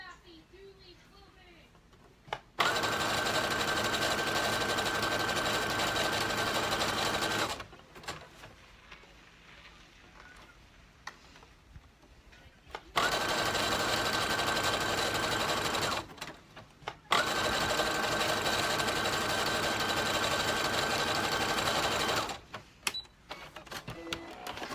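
A sewing machine stitches around elastic on the inside of a sewing project, running in three long, steady bursts separated by quieter pauses, close and loud, with faint talk in the gaps.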